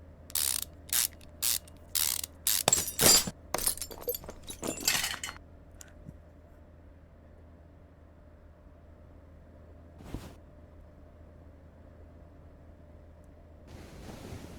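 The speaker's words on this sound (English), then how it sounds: "Now we're going to take this gearbox right off of here. Yes. 2 more bolts." In Car Chop Shop Simulator 2018, a ratchet rapidly clicks in several short bursts while gearbox bolts are removed. Near, crisp ratcheting fills the first five seconds, followed by quiet and a lone later click.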